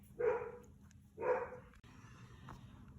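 A dog barks twice in the distance at a workshop where a Cooper T51 car body is being built, two separate bark bursts about a second apart, followed by quieter background noise.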